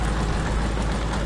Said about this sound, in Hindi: बीचों बीच ट्रैक्टर आ गया।